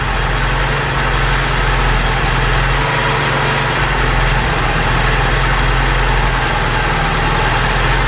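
A Vauxhall Cavalier MK2 engine idles low and even after a full carburettor rebuild and adjustment, a steady, close rumble with a constant mechanical hum and no talk.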